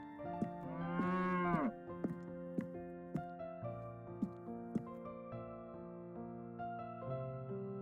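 A cartoon buffalo gives one long, drawn-out moo early on, over a steady bed of melodic background music with light plucked accents in an animated village story.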